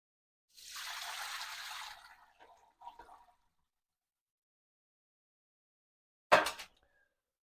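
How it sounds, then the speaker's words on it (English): Cooked onions and liquid poured through a strainer while making a firehouse pork butt: a steady rushing pour for about a second and a half, a few trailing drips and clinks, then quiet before a brief loud clatter. "I'm going to strain out the onions and stuff."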